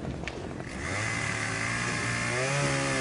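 An Echo professional-grade chainsaw engine revs up and holds a steady, loud buzzing whine close by, with a rising pitch after a brief sputtering start.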